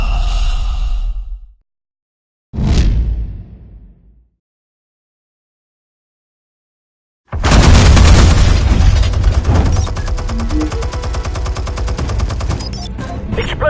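Gunfire and explosions in a Batman game, a loud blast and short burst that die away into silence, then a sudden dense barrage of heavy, continuous rattling fire and booms that stays loud to the end.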